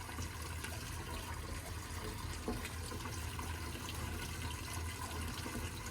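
Water gushing out of cylinders as they drain, a faint continuous rushing flow that stays even throughout without interruption.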